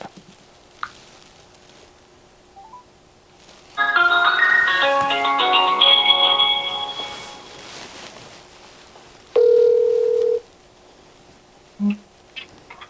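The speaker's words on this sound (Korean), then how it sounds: "바로 전화 걸어 보시면 됩니다" A burst of electronic dialing tones, then a steady ringback tone sounding once, followed by a short beep, quiet in between.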